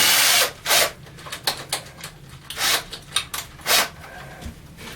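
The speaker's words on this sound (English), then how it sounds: "Right, and then we'll put the other bit in so we can countersink them." A battery drill fitted with a countersink bit bores into scrap wood for a saw stand, in about six loud, close whirring bursts of varied length separated by brief pauses.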